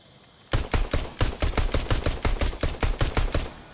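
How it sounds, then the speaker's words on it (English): A close machine gun in a video game opens up after a quiet moment and lays down suppressing fire, a steady rapid string of loud, evenly spaced shots lasting a few seconds. "Suppressing fire!"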